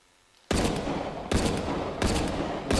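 Pistol fired in the VR video game Hot Dogs, Horseshoes & Hand Grenades: four sharp, loud shots spaced under a second apart, each with a short ringing tail, after a brief quiet start.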